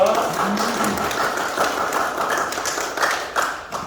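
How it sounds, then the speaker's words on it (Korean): Applause at an opening ceremony for a distribution center, clapping for an elder who came from Pohang; a steady, moderately loud patter of hands through the whole stretch with faint voices mixed in. "이형득 장로님께 다시 한번 큰 박수 부탁드립니다"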